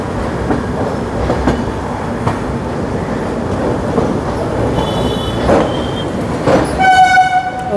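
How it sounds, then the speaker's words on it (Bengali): A train rolls near the Narkeldanga car shed on the Sealdah station outer as another train is moved out of the shed, with a steady rumble and clickety-clack throughout and a horn sounding loudly near the end. "ওই দিক দিয়ে কারশেড থেকে ট্রেন বার করা হচ্ছে"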